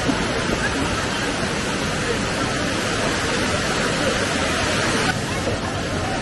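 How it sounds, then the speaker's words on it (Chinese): A waterfall on Gunung Ledang rushes in a loud, steady roar of falling water, close and continuous, with faint crowd chatter blended in. "金山上面的瀑布怎么样？"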